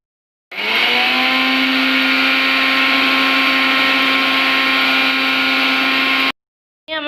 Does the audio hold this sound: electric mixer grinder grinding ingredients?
yes